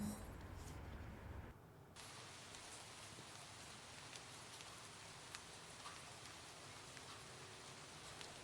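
Steady rain falls in the city-building game Vuntra City, a dense, even hiss of drops spread across the whole clip, starting after a brief quieter moment at the beginning and continuing unbroken.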